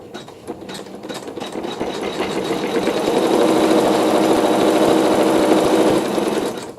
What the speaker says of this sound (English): sew a tack down stitch